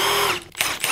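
An impact wrench runs with a Milwaukee impact socket fitted, a loud, close, buzzing whine that dips briefly and then surges again within a second.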